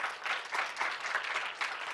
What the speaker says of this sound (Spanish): favor un fuerte aplauso a Alicia.